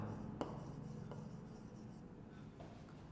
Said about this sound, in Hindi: तो चलिए डेफिनेशन पहले लिखते हैं।